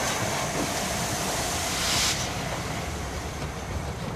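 Steam locomotive 4468 Mallard hauling a train across the viaduct over the River Nid at Knaresborough, a steady loud rumbling roar of wheels and exhaust heard from nearby, with a brief brighter hiss midway.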